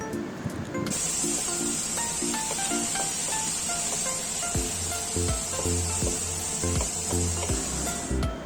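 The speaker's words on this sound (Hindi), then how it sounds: "अब हमने चिकन को इसके साथ फ्राई करना है।" Steady hissing sizzle of chicken frying in a hot pan runs throughout, with a bright high hiss and occasional clinks and scraping from utensils; no talking.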